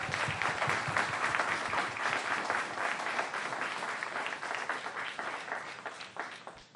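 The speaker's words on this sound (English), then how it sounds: "Let's give them a round of applause." A crowd at a community Chanukah light celebration breaks into dense, sustained applause that holds steady before gradually thinning toward the end.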